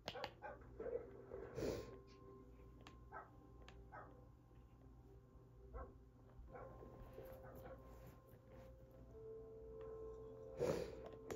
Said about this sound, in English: Hearing dogs.